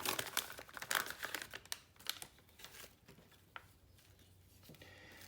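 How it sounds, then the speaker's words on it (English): A plastic bag from a Rosco M68K computer kit is torn open by hand, giving loud crinkling and ripping bursts up close that fade to quieter rustling. "I'm just going to rip this bag over"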